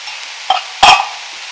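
Spoon stirring rice and cheese into a stuffed bell pepper filling, two short scraping stirs, the second louder, close and alone.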